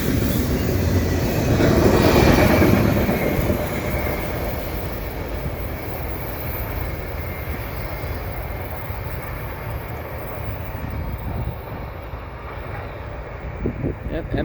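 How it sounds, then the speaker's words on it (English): A fast CSX loaded autorack freight train on the Pittsburgh Subdivision rushes past: a continuous roar and clatter of rail cars, strongest early, then a steady rumble that carries on throughout. "M214 loaded autorack train heading to Baltimore"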